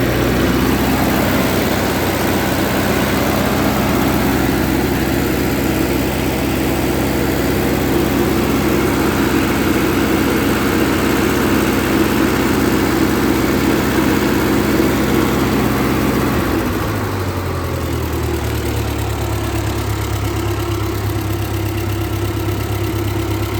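A 1948 Ford 8N tractor idles steadily just after a cold start, its low, even engine chug running loud and close throughout, with a shift in pitch and rhythm near the end as the idle settles.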